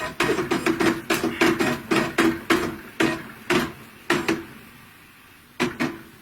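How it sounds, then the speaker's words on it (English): Spools of thread shaken by hand while quilting, producing a rapid series of sharp, hollow rattling clacks in bursts, close and fairly loud, thinning out toward the end. "Shaking my spools of thread."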